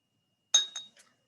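Glasses of Wolf Blass sparkling wine clink together at a book launch gathering: a bright ringing tap followed by two quicker, fainter clinks, close and clear in an otherwise quiet room.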